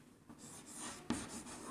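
Chalk or marker writing on a classroom board during an English grammar lesson, a steady scratchy stroke with a sharper tap near the end, close and fairly quiet, with no talking.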